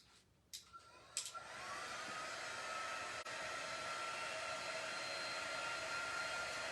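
A hair dryer blows on a pillowcase to dry fabric paint. It clicks on and settles into a steady, close, loud whooshing hum that runs on without pause.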